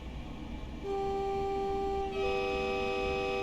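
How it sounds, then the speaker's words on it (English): A Class 82 Mk.4 DVT (Class 91 set) horn sounds in Train Simulator Classic: two loud sustained tones, the first entering at about 0.9 seconds and a second chord from about 2.1 seconds, held over steady rail running noise. "Very European style train horn on this thing"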